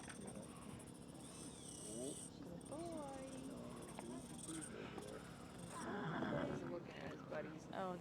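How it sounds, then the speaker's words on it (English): A horse whinnies faintly in the background of a veterinary exam of a gelding, with a soft wavering call under quiet ambient noise and low voices. "there's a horse coming to your left"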